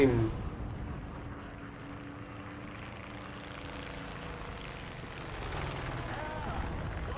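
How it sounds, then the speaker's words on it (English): A propeller plane flying nearby in the War Thunder tank battle game, its engine drone steady and fairly faint under the game's rumble, growing a little louder toward the end. "And I hear a plane."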